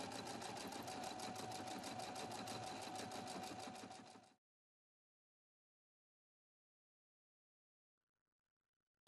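A Husqvarna Viking Platinum Plus sewing machine runs a programmed stitch combination in a steady, fast rhythmic whir for about four seconds, then stops abruptly into silence.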